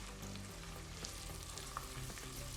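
Finely chopped onions frying in a pan while being stirred, a faint but steady close-up sizzle with light scraping and small clicks of the spoon, no voices.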